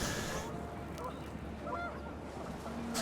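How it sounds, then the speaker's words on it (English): Panicked geese honk briefly over a steady windy rush in What Remains of Edith Finch, the calls faint and scattered in the middle of the gust. "The wind picked up and panicked geese appeared and quickly went."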